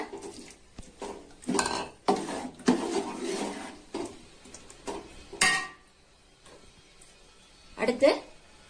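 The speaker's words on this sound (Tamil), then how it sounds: "அரை மணி நேரம் ஊற வச்சது அதையும் சேர்த்திக்கலாம் நல்லா கலந்து விடுங்க" Marinated chicken is stirred into a biryani pot, heard as several loud bursts of scraping and clattering from a metal utensil against the pot, separated by short quiet gaps.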